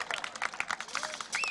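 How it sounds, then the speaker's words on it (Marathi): Scattered applause from an audience at a sports tournament prize ceremony, uneven claps of moderate loudness with a voice and faint chatter mixed in. "मित्र, टाळ्या वाजवा, काय कंजूसी करता."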